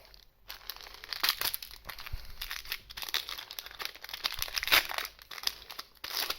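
Tearing open a foil Shadowverse trading card booster pack, with close crinkling and ripping of the wrapper in irregular bursts for several seconds.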